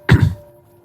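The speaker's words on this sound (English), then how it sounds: "I am really struggling to clear my throat today for some reason." A single close, throaty throat clear bursts out at the start and then fades into near silence, made by a male gamer who is struggling to clear his throat.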